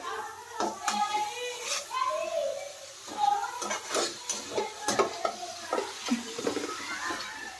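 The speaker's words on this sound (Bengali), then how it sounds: "জাস্ট আমি একটু নেড়ে চেড়ে দিচ্ছি" Chow mein stirred and tossed in a pan over the flame, repeated scraping and clattering strokes with a light sizzle beneath, overlapped by people talking nearby.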